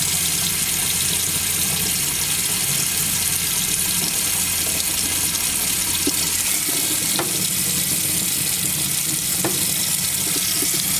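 Water runs through tubing across the floor to the faucet of a Roadtrek Popular camper van during filling and sanitizing, a loud steady hiss with a few faint clicks along the way.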